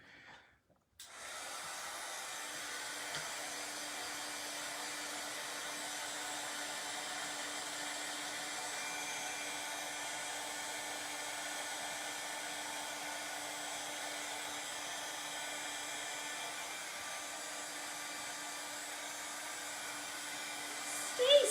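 A hair dryer blows steadily on a mason jar cutout craft, a loud continuous whooshing hiss that starts abruptly and runs unbroken to the end.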